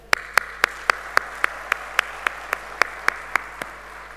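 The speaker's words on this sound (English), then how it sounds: "A big round of applause for this entire team." Single hand claps sound at a steady, even pace, about a dozen crisp claps in a row against a quiet background, in a summit audience setting.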